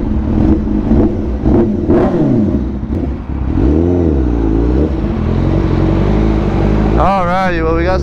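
Engine of a Honda CBR1000RR-R SP motorcycle rises and falls in pitch through steady revving under wind noise, with a sharp high rev near the end. Someone talks over it.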